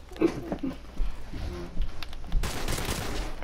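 Rapid gunfire from a weak gun in Modern Warfare Remastered crackles in close, uneven bursts and volleys, with quieter patter between shots and a denser burst toward the end.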